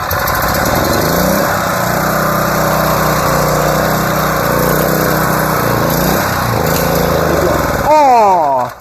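A small engine running steadily after the choke is taken off, a loud buzzing lawn-mower-like drone held close throughout, with a rising whine of revving near the end before it cuts off.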